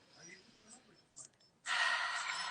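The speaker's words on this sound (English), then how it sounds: "Take a deep breath." A single deep breath drawn in audibly near the close of a guided meditation, a soft inhale and short pause followed by a long, loud breathy exhale, close to the microphone.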